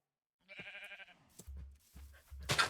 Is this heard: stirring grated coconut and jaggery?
no